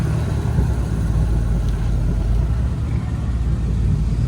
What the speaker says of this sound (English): as it looks like we got the Cortina rolling out.